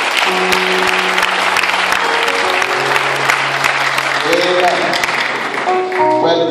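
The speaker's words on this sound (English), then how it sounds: "A round of applause for the man of" Loud, sustained audience applause at a university ceremony, packed and continuous, with voices and tonal sounds running through it throughout.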